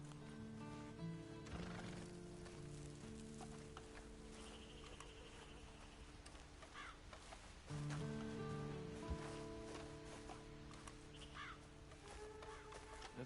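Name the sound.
horse neighing and hooves, video game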